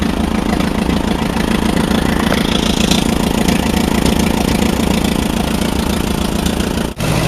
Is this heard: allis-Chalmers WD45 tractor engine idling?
yes